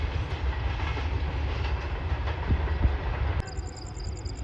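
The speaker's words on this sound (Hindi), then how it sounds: "अब बुलान मेल आ चुकी है" Bolan Mail passenger train pulling into a Karachi station, a steady close rumble with wheel clatter and rail noise throughout, then a sharp hiss or tone near the end.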